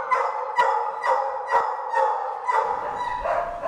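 Dogs in an animal shelter kennel bark repeatedly in a steady series of loud, close, echoing barks, about two per second, with several dogs joining in and a busier chorus toward the end.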